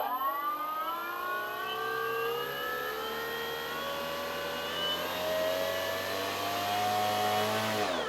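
HobbyKing Avios Grand Tundra 2 RC bush plane's electric motor and large propeller spinning up, a loud, steady whine whose pitch climbs smoothly over several seconds before easing back off.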